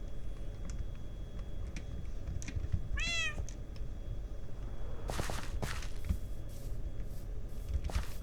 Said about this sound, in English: That's a cat that I've had since the beginning of this world.